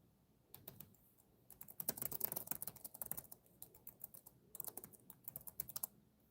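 Rapid typing on a computer keyboard, with dense bursts of clicky keystrokes in uneven runs and short pauses between them, fairly close and quiet, with no talking over it.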